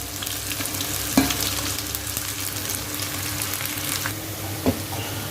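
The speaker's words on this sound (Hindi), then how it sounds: "और गैस स्लो करके 2 प्याज मीडियम साइज का 22 स्लाइस करके उसमें डाल देंगे। इसको हल्का लाइट ब्राउन करेंगे," Two medium onions, sliced, fry on low gas in a pan until light brown. A steady, close sizzle continues throughout, with a couple of soft stirring knocks.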